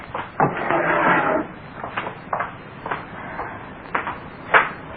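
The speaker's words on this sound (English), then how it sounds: "Here, Lil, get me that hammer out of the drawer" A wooden drawer is pulled open with a sliding rattle, followed by a series of small knocks and clatters as things inside are shifted, a staged sound effect for an old radio drama.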